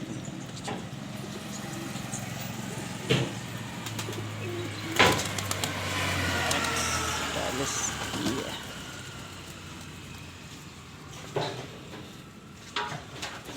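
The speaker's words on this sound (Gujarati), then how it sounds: "આ જો કેટલા બધા કબૂતર" Pigeons coo softly in the background among scattered bumps and clatter, with a person talking now and then.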